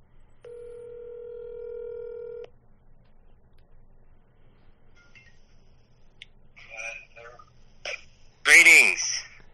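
A telephone places a call, opening with a steady dial tone for about two seconds. A quiet pause follows, then scattered dialing beeps, and a voice clears its throat and speaks at the end.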